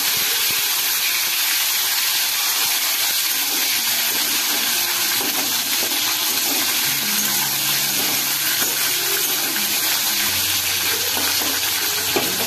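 Tomato and mixed vegetables fry in a pan, a loud, steady hiss of sizzling oil close by, with faint clinks underneath and no talking.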